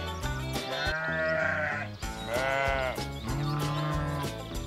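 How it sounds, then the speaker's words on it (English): Sheep on a farm bleat in a few wavering calls over continuous background music, with no talking. "There are sheep on the farm."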